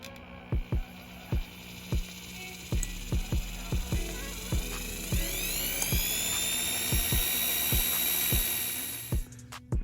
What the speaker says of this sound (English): you're gonna get it right in the center and then just start drilling.